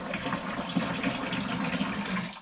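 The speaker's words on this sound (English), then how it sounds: "So let's pour this hot water in the fermenting bucket." Hot water poured into a plastic home-brew fermenting bucket, a steady, loud, close splashing gush that runs unbroken throughout, with no talk.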